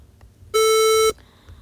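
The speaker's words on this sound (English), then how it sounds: "It's just a beeping." An emergency alert system alarm sounds as a single steady, loud electronic tone held for about half a second, rich in harmonics, set against quiet background.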